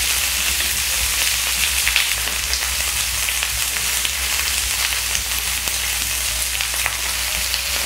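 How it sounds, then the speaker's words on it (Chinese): Free-range chicken pieces just laid in a pan over medium heat sizzle and crackle continuously at close range, an even frying hiss without talk. "土鸡刚下锅哦，不要动它，让它煎一下。"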